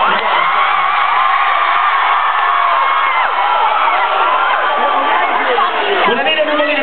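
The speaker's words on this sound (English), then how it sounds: "this has been the most energetic crowd of the whole tour" A large concert crowd cheers and whoops continuously at steady loudness, a dense wall of shouting voices and chatter from an energetic audience on tour, with no single voice standing out.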